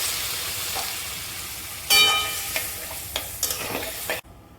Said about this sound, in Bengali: এবার এর মধ্যে আমি জল দিয়ে দিলাম